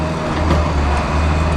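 A skid steer's diesel engine running hard at close range, a loud steady low rumble with a rough droning texture that holds throughout the short stretch.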